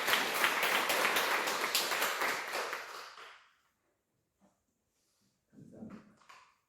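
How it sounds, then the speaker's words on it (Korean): Church congregation at a Wednesday service applauding to encourage the stand-in accompanist, a close burst of clapping that fades out after about three seconds, followed by faint shuffling sounds. "우리 한번 격려의 박수 한번."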